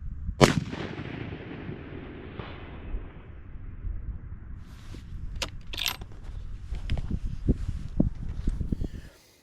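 A 7mm PRC rifle topped with a Nightforce scope fires a single sharp, loud shot, followed by a fading rumble and then light metallic clinks and rattles nearby.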